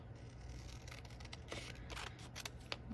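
Scissors cut apart paper for a bullet journal monthly setup, producing a few faint, quiet snips spread through a soft background.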